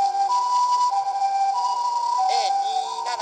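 An ambulance siren wails steadily with a rising and falling tone over a loud, constant background hum, at an intersection in Osaka.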